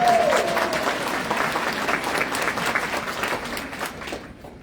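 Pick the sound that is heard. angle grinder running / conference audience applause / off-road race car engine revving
conference audience applause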